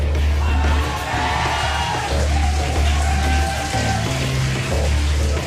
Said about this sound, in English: Really amped crowd down there today, Tasteless.